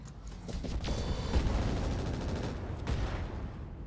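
Mech weapons firing in the BattleTech game RogueTech, a rolling barrage of rapid blasts and booms blending into a dense rumbling volley, with a few sharper reports standing out, loud and continuous.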